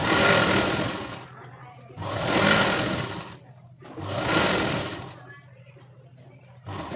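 A sewing machine stitches a blouse in three long bursts of steady, close whirring, separated by short pauses in which someone speaks over a faint background hum.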